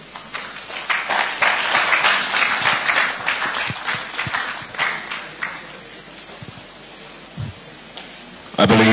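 Audience applause at a Nigerian federal government press briefing on Independence Day plans, a loud wash of clapping that swells early, then thins and fades toward the end before a sudden louder burst.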